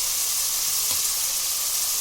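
Two tomatoes drop into a hot pan of browning mutton liver and fry with a steady, close sizzling hiss that runs through the whole moment, with no talk over it.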